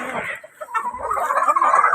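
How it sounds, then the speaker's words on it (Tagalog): Chickens clucking close by just after being fed, a busy string of short clucks and murmuring calls with a brief lull early on, then steady chatter to the end. "Katatapos na magpakain ng manok yan sila."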